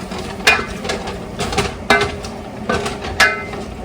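Chicken pieces cook in a pan with a steady low sizzle while a utensil stirs and scrapes, and several sharp clinks of metal against the pan ring out at irregular intervals.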